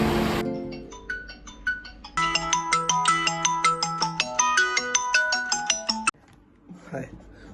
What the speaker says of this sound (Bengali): মিলনের ফোন এলো